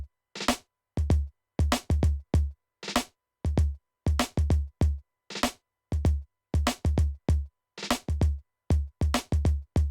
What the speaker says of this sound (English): this snare fill with the drums sounds something like this.